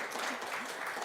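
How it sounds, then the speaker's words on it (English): Audience applause at a tech conference talk, steady dense clapping filling the room throughout, fairly loud and close, with no speech over it. "Applause."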